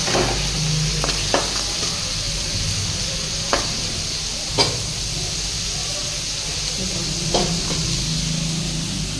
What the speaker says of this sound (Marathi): भाजून घ्यायचा असा चांगला कांदा